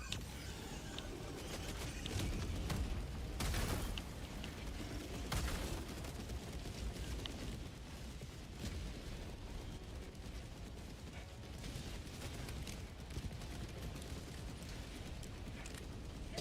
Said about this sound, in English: Orbital inbound.